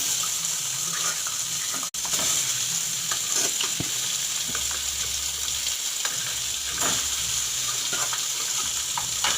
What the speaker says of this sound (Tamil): எண்ணெய் சூடான அப்புறமா கொஞ்சம் கொஞ்சமாக அந்த முட்டையெல்லாம் போடணும்